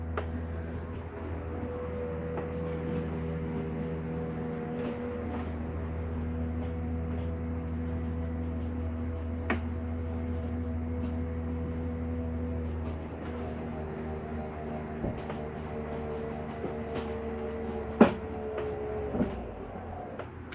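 A motorized rear bedroom slide-out on a 2022 Heartland North Trail 26FKDS travel trailer retracts with a steady low mechanical drone and hum, faint clicks and knocks along the way, and a sharper clunk near the end as it stops.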